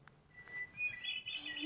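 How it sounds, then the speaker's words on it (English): A wood thrush sings outdoors, giving faint, clear fluting phrases that rise toward the end, heard at a distance over quiet background. "And we have a wood thrush"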